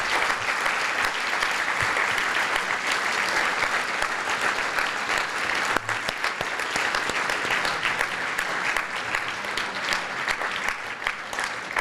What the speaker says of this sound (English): Please give them a round of applause for a year well done.